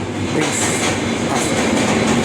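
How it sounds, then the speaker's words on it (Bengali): A loud, close train rumbles across a river bridge with a steady roar and a rhythmic metallic clatter of wheels, with no voices. "একটি ট্রেন যাচ্ছে এই নদীর উপর দিয়েই"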